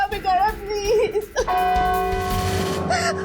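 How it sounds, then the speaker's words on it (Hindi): A bell rings in a horror drama, starting abruptly after a woman's frantic pleading and holding a sustained, resonant ringing tone to the end. "घंटी सुनी तुमने?"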